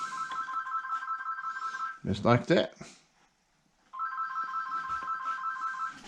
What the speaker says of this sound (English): Another phone ringing.